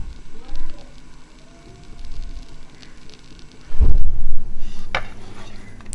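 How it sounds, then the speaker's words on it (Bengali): A slice of bread coated in egg fries in a little oil in a pan, with a steady sizzle that swells loudly partway through, heard up close with a voice talking over it. "উল্টে দিয়ে পাউরুটিটাও ভাজা হয়ে যাবে। আর বেশি তেল লাগে না, অল্প তেলে আপনি এতে ভাজতে পারবেন।"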